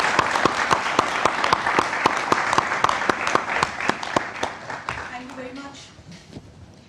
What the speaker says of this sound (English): May I have standing applause from the audience,